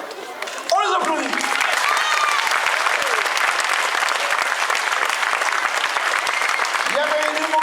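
An audience at a rally in Orthez bursts into loud, sustained applause, dense clapping filling the whole span after a short spoken lead-in, with brief voices near the start and end.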